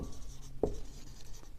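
Pen or chalk writing while a maths problem on soil volume is worked out, heard as soft, close scratchy strokes with a couple of sharper taps, alone without talk.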